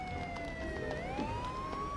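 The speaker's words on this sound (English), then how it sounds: "Oh look! There's the ambulance." An ambulance siren wails in Roblox Brookhaven, a clear rising and falling electronic tone that sweeps upward partway through, moderately loud over a faint background bed.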